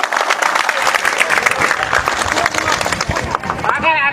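A crowd at a third-day workers' protest outside the Haldyn Glass company in Gavasad village, Padra, breaks into loud, dense, sustained applause, with a voice cutting in near the end.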